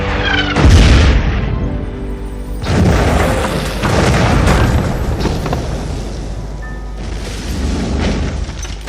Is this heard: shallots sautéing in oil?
no